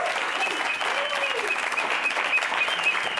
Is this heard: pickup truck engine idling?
no